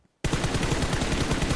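Rapid automatic gunfire in a PUBG Mobile esports match, bursting in abruptly after a brief silence and then rattling on as loud, evenly spaced shots.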